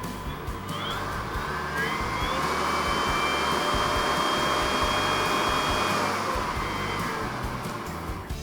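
Cobra BV6040VZ 40V cordless blower vacuum running as its speed dial is turned up, a steady rushing whine of air, close and continuous, rising slightly in intensity, with no talk.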